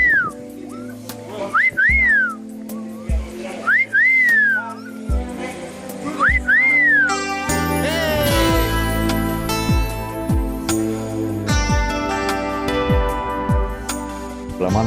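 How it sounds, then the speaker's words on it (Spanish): A person whistles short rising-and-falling calls, repeated several times with pauses, then music with strong tonal notes takes over for the rest. "Chifla, chifla ahí."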